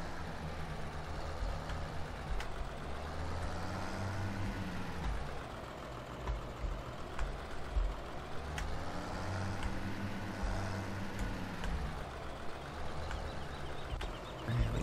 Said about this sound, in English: Come on, crazy tractor